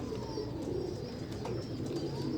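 A pigeon coos softly in low, rounded murmurs against a quiet background hiss, with faint chirps in the distance.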